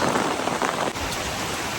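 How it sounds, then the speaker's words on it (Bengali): Heavy rain pours down in a village downpour strong enough to tug at an umbrella, a loud, dense, unbroken hiss of drops hitting surfaces close by, with no voices. "প্রচুর বৃষ্টি, বৃষ্টিতে আমার ছাতা টাতা উড়াই নিতেছে"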